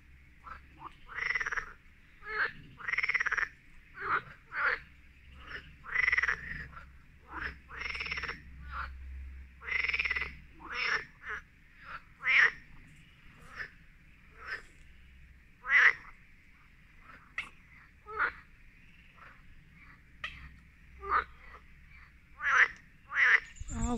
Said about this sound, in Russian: Лягушачий концерт.